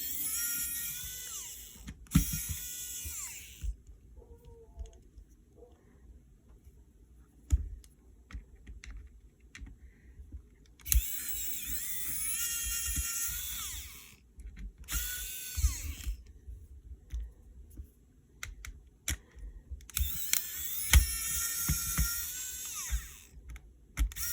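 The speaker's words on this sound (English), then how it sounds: "So I'm going to remove all the motherboard screws." A small electric screwdriver backs out the motherboard screws of a Game Boy DMG. It whirs in several short high bursts with quiet gaps between them, and faint clicks of handling come through at close range.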